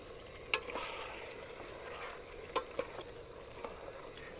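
Onion layered with meat cooks quietly in a pot for a Cameroonian peanut sauce, a faint low sizzle with a few sharp utensil clinks against the pot.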